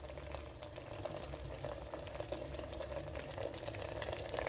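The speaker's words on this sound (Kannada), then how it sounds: "ಇಲ್ಲಿ ಈ ಥರ ಕುದಿಸ್ಬೇಕು ಸ್ನೇಹಿತರೆ" Liquid bubbles and simmers steadily in a pot, a soft continuous burble with small popping bursts, heard close and fairly quiet.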